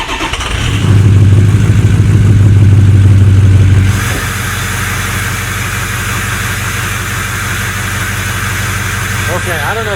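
Diesel engine of a Ford 6.0 liter Powerstroke running with an upgraded exhaust and its catalytic converter removed, a loud deep drone that surges for a few seconds, then settles into a steady, rumbling idle with a whistly, jet-like tone.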